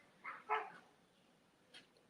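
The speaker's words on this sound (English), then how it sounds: "There's the dogs. I don't want them to start barking." Small dogs bark at a distance outdoors in Mexico: two quick yaps close together, then a single fainter bark a moment later, over quiet background.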